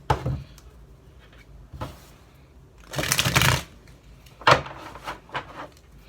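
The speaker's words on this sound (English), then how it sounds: "One more shuffle." Game of Thrones tarot cards are shuffled by hand in several separate bursts, crisp riffling flutters close to the microphone with quiet pauses between, the longest and loudest shuffle in the middle.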